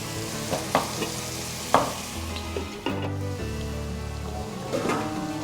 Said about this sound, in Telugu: సో ఆనియన్స్ బాగా మగ్గాలంటే మన దగ్గర ఒకటి చిట్కా సాల్ట్ వేయడం మగ్గడానికి వదిలిపెట్టేయండి